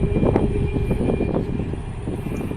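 A Ryanair Buzz airliner's jet engines roar at an airport, a broad, steady rumble heard from some distance with wind buffeting the microphone.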